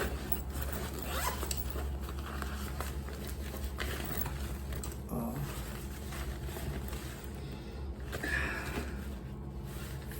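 A bag zipper rasps open in several quick pulls, close to the mic, over steady low background rumble.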